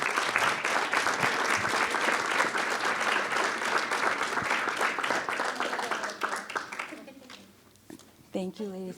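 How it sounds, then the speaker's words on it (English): An audience at a Board of Education business meeting applauds two honored teachers with a full, steady burst of clapping that lasts about seven seconds, then fades out as a voice speaks over the tail. "So can we please give both of these wonderful teachers a round of applause?"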